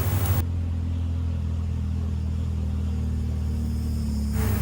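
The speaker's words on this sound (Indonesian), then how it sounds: "Sempat mobil kami hampir tidak kuat menanjak, tapi untungnya mobil kami bisa melewati tanjakan ini." Car engine labouring up a steep incline on a mountain road in Toraja, a steady loud low drone heard from inside the cabin.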